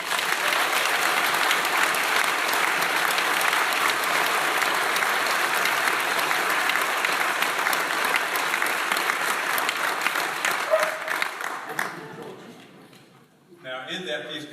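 An audience at a police division crime and safety community meeting applauds loudly and steadily for about twelve seconds, then the clapping fades out and a voice begins speaking.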